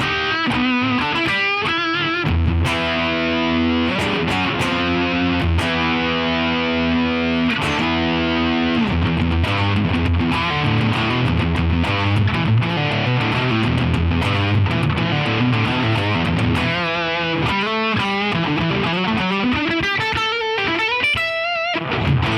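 Heavily distorted electric guitar through a Catalinbread Sabbra Cadabra pedal, riffing with a washy reverb tail, sustained chords and bends ringing continuously at steady loudness.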